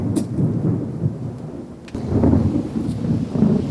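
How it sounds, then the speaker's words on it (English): Steady rain falls outdoors as a continuous hiss, with a low rumbling undertone and a brief lull partway through before the downpour swells again. "when it's raining outside, you don't get quite as wet"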